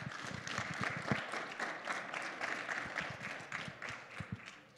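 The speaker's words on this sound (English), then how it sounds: "If you guys want to give them one more round of applause." A conference audience applauds the competitors of a sports gaming innovations challenge, a fairly soft, sustained round of many hands clapping with audible individual claps that thins and fades toward the end.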